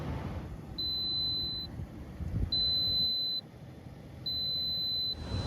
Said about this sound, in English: there's a low voltage alarm